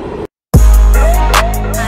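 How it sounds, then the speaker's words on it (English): A steady low rumble of a moving train carriage fills the space after a brief silent gap, with a faint squeal rising and falling. "So we're on the train"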